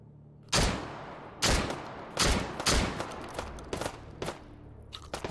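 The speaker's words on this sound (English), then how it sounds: "I keep thinking that's a shotgun anyway." Shotgun blasts in the video game Hot Dogs, Horseshoes & Hand Grenades, played on an outdoor Take & Hold map: about six loud, sharp shots at uneven intervals, each with a short ringing tail, and no talking.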